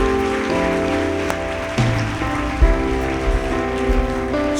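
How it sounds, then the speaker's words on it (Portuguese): A church congregation applauds together, a steady dense patter of clapping hands filling the room, with sustained organ or keyboard chords ringing underneath throughout. "você pode aplaudir o Senhor Jesus?"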